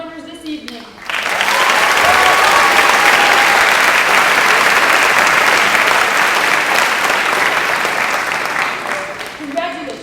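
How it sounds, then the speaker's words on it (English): A large audience at a Grade 8 celebration bursts into sustained applause for award winners, loud and dense clapping for several seconds that slowly tapers, with brief talk before and after. "Let's have another round of applause for all our award winners this evening."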